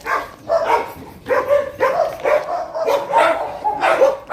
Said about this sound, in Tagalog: Kaming aso dito, mga sisig ko.